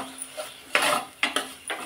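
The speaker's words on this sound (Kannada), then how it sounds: "ಇದು ಸ್ವಲ್ಪ ಎಣ್ಣೆಯಲ್ಲಿ ಫ್ರೈ ಆಗಬೇಕು, ಹಸಿ ವಾಸನೆ ಹೋಗಬೇಕು ನೋಡಿ." A spoon stirs turmeric, chili powder and tomato frying in oil in a pan for chana masala, giving several sharp metallic scrapes and clanks in an uneven rhythm over a faint background, with no talking.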